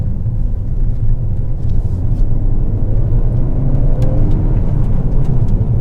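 Car fitted with Mountune springs driving a narrow, rough, loose-surfaced road off the main road, a steady loud low rumble of engine and road noise with slight variations, close and continuous, with no talk.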